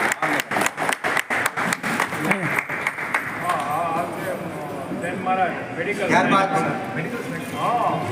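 An audience at a community felicitation event claps in a rhythmic unison beat to welcome a newly named president. The clapping fades into someone talking over a murmuring crowd.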